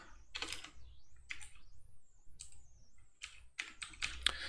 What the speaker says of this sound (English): I like to type everything